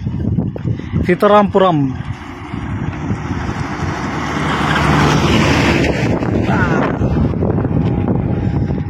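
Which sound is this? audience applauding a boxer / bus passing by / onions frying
bus passing by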